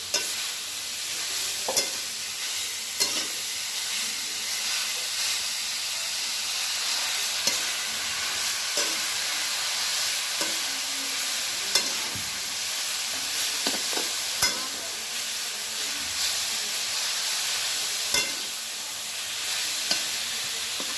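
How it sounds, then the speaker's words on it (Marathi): Beetroot sizzles and hisses as it roasts in a hot wok while a utensil stirs and scrapes at intervals, close and steady with no talking. "आता आपण कढईमध्ये बीट टाकूयात"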